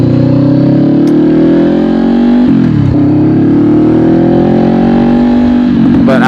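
A 2020 Honda CBR500R motorcycle on the road, its engine droning loud and steady with rising pitch as it accelerates, a brief dip around a gear change, then climbing again under strong wind noise.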